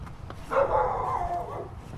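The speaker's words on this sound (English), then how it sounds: "dog barking" A dog barks once in a short, moderately loud bark followed by a drawn-out whining tail, heard alone over faint background noise.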